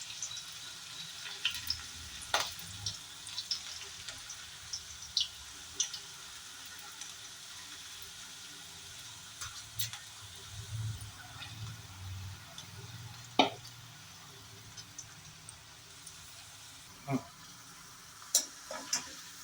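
Okra (bhindi) frying crisp in a pan over medium heat, a steady soft sizzle broken by occasional stirring scrapes and sharp clicks, with faint low rumble beneath.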